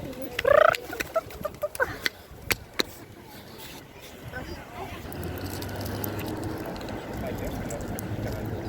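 Fowl on a beach near Tel Aviv give a few loud, gobbling calls early on, followed by quieter scattered sounds and a low background rumble, with people talking nearby.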